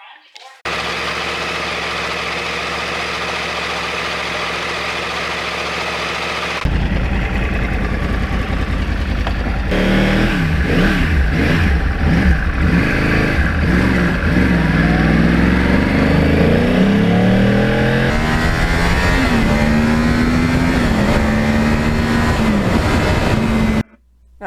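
A Yamaha R1 crossplane motorcycle engine runs loud and close, holding a steady drone before revving up through rising, wavering pitches as the rider sets off.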